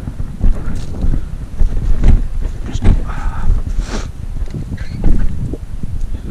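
Wind blows outdoors during a Black Friday hunt, buffeting the microphone in steady low rumbling gusts, with faint rustling throughout and brief bits of voice.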